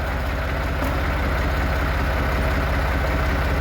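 A tractor fitted with a front loader idles steadily close by, its low engine rumble even and unbroken throughout with no talk over it.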